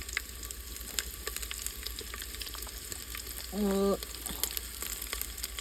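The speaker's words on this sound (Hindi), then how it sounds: "तो तड़का बन गया है, अब इसमें डाल रही हूँ लाल मिर्ची" Oil sizzles softly in a pan under a steady crackle as spices fry for a tempering, with a brief high whine in the middle and a single word spoken.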